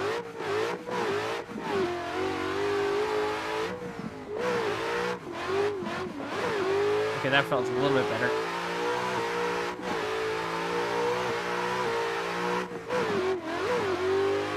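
An RTR race car engine in a drifting video game revs steadily and continuously, rising and falling in pitch with occasional sharp dips, while someone briefly speaks over it.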